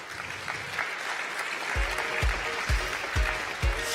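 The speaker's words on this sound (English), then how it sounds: "A round of applause for..." Conference crowd at NG-DE 2024 applauding as a guest is called on stage, steady clapping with dull rhythmic low thumps beneath it, fairly close and full.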